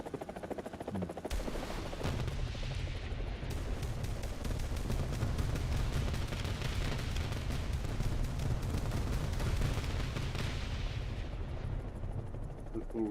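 Dense, continuous gunfire and explosive rumble in a helicopter combat video game on a custom Sweden map, loud and sustained throughout with heavy low-end booming.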